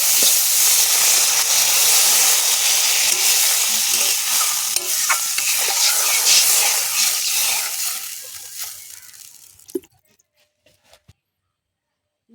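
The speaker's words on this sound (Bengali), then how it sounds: "এবারে দিয়ে দেব জল।" Water poured into spice masala frying in a pan for a fish curry: a loud, dense sizzle and hiss that steadily dies away into near silence, with a couple of small knocks at the end.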